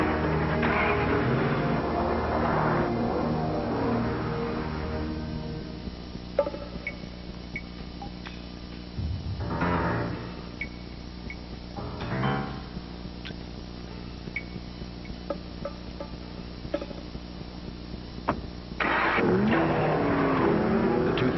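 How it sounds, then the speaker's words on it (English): A 2005 Ford Mustang engine revs and roars through several bursts of acceleration, loud and close, mixed with ticking and other effects and some brief background sound between pulls. "The 2005 Ford Mustang. The legend lives."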